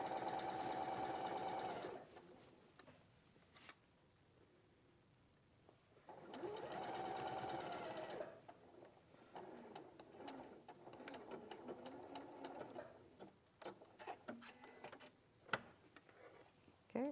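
A sewing machine stitches in two short bursts of fast mechanical whirring, separated by quiet gaps, with faint talk and small clicks and handling sounds afterward.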